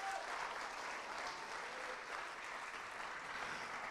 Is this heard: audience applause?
yes